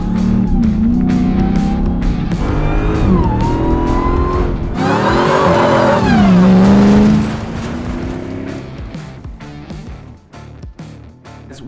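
A 2022 Jeep Gladiator Mojave with a swapped-in supercharged 6.2 Hemi revs hard nearby, its loud roar and supercharger whine rising and falling through several pulls before settling toward idle.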